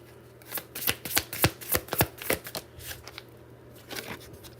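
Tarot cards are shuffled by hand in a rapid series of crisp riffling snaps and slaps, close and fairly loud, then tapering off into quieter rustles.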